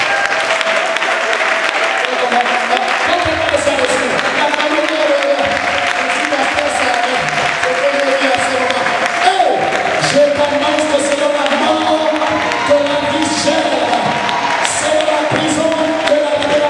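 Applause from a church congregation acclaiming the Lord during a service, sustained and loud throughout, with cheering and music or voices mixed in underneath.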